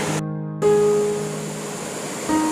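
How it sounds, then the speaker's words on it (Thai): Kapong waterfall in Chumphon province, Thailand, in the high-water season, gives a broad, steady roar of falling water. The roar drops out briefly near the start, then carries on unbroken with no talking. "เสียงน้ำตกได้ยินไหมครับเพื่อนๆสดชื่นจังเลยค่ะ"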